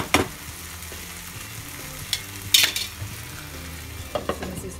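Prawn masala curry sizzles steadily in a pan as the oil separates, a soft continuous frying hiss with a few sharper clinks and stirring sounds, no talk.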